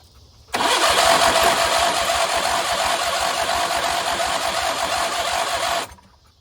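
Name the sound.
Craftsman riding mower engine starting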